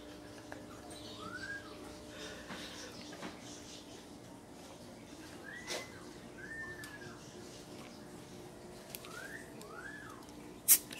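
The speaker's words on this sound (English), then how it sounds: "Listen to the parrots and the birds now." Several short rising-falling parrot whistles repeat at intervals against a quiet outdoor background, with a few faint clicks and a sharp tap at the end.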